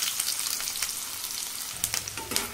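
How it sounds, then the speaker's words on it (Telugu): Onion pieces crackle in hot oil inside a pressure cooker, a bright dense sizzle up close with a few louder spits and a stir toward the end. "నూనె వేడైన తర్వాత ఉల్లిపాయ ముక్కలు వేసుకోవాలి."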